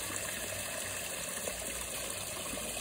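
Water cascading down the front of a garden koi and goldfish pond waterfall, a steady, faint hiss and splash without pauses or voices.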